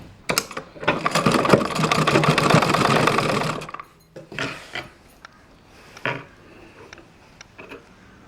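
A sewing machine stitches a fold on a blouse in a loud, rapid burst of clattering needle strokes lasting a few seconds, followed by quieter intermittent mechanical clicks and fabric handling.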